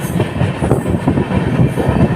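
An express train in India runs fast on its rails with a loud, steady rumble and rhythmic wheel clatter, close and continuous, with no voices.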